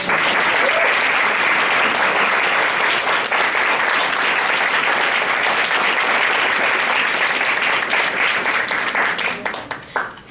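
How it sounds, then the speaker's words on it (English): Applause from an audience at a policy briefing, a dense steady clapping that fills about ten seconds before tapering off at the end. "If we could give her a round of applause."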